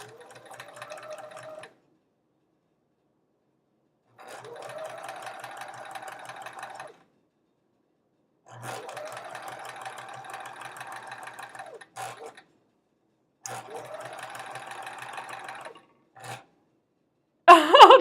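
A sewing machine stitches a quilt block in four bursts of steady, close mechanical whirring, each a few seconds long, with silent pauses between runs and a short louder knock at the very end.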